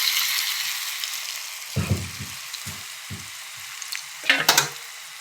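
A ground masoor and chana dal paste fries in very hot oil with a crackling sizzle, punctuated by several loud, bubbling spits and splutters in quick bursts.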